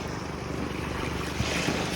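A small fishing boat's low engine drone on open sea, mixed with wind and waves, rising slightly as it draws nearer.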